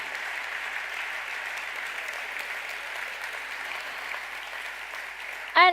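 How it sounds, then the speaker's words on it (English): An audience at the Solar Decathlon Europe final award ceremony in Wuppertal keeps up steady, moderately distant applause, with a brief loud burst at the very end. "Give yourselves a round of applause."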